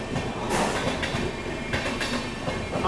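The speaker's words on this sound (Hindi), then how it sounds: "ये लो भाई साहब पैरेलल ओवरटेक मार के गई है अभी महाबोधि एक्सप्रेस।" Mahabodhi Express passing on a parallel track, a loud close rush of rolling wheels and rail clatter with rhythmic clicks from the joints, heard from inside another moving train.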